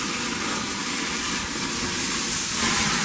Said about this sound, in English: We are grilling the steaks, grilling them to perfection.